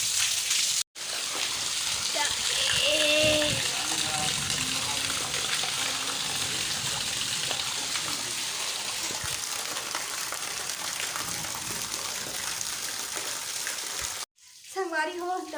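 Water pours steadily for about thirteen seconds, a loud continuous rushing splash, poured to float a toy boat at home; a voice is briefly heard near the start, and the pour cuts off abruptly at the end.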